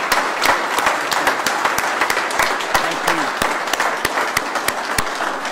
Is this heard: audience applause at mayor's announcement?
yes